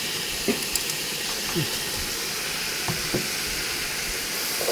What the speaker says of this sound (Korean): 고기를 좀 어느 정도 익을 때까지 미리 익히는 거지